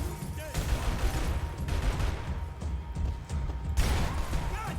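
Shotgun blasts fire in a video game during a live stream, several loud, close booming shots in quick succession with crashing impacts between them, and a player's voice comes in now and then.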